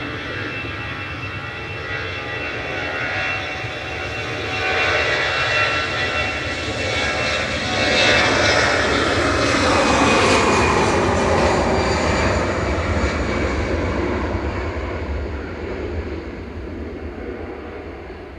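An easyJet airliner departing Manchester Airport for Alicante roars loudly, the thrust swelling to a peak midway and then slowly fading as it pulls away, with no voices.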